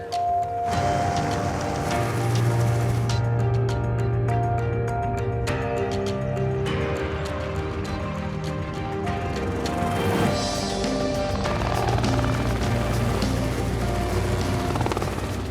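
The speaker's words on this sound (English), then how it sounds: "Chopper's just getting ready to push them over the threshold." Helicopter hovering and sweeping low over African savanna to herd kudu toward a capture boma, its rotor thudding loudly and steadily throughout with engine whine, no talk.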